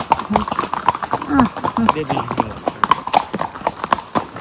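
Rhythmic clip-clop of a ridden horse's hooves on hard ground in Matheran, close and steady, with people talking over the hoofbeats.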